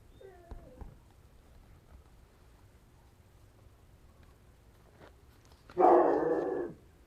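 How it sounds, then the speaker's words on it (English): A dog gives a single short burst of barking or yelping near the end of an otherwise quiet stretch, fairly close and loud against faint background noise. "If Mojo's barking, he hears something for real."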